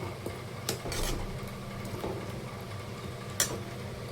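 A spoon scrapes and taps in a pan as a spice paste with sour yogurt is sautéed over low heat, quiet background sizzle with a few sharper metallic clinks, close.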